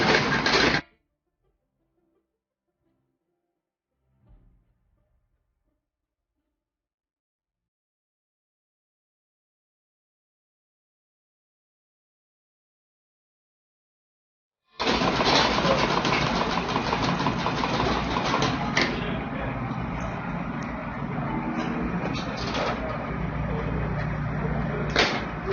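A sewing machine stitches an A-line long skirt, running steadily and loudly for about ten seconds after a long silent pause, with a brief burst at the very start.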